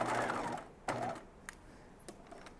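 A sewing machine stitching a dress seam at one inch, with a short whirring burst up front, a second brief run, then a few faint clicks and taps, quiet and nearby.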